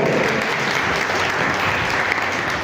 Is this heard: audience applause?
yes